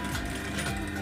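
A sewing machine runs fast and continuous, stitching fabric for a blouse with a steady dense whirr, close and fairly loud, no talking.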